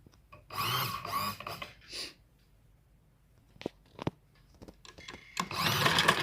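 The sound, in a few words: sewing machine stitching a sleeve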